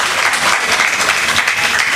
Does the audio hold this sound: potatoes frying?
no